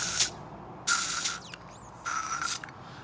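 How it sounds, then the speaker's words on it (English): Carb cleaner sprayed into a blocked circuit of a Triumph Daytona 1200 motorcycle carburettor, three loud hissing bursts close up, separated by short pauses with faint metallic handling noises. "get some carb cleaner."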